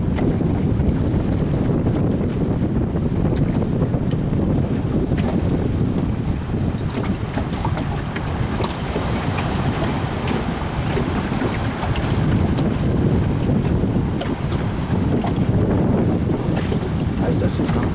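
Strong wind buffets a microphone at sea off an island coast, a constant heavy low roar mixed with surf and waves, with no pause across the whole stretch.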